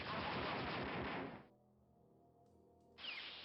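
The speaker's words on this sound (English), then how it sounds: "So I couldn't hear you over my blaster fire" Rapid blaster fire and turret shots from the video game Dark Forces, a loud dense barrage that cuts off abruptly, leaving a low hum, then bursts back in near the end.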